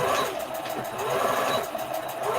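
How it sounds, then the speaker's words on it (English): A sewing machine whirs steadily up close as it back stitches fabric for an Easter bunny treat bag, its motor hum running continuously through the whole moment. "just make sure you back stitch and keep your fabric down"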